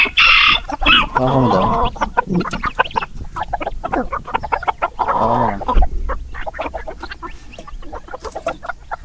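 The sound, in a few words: chickens clucking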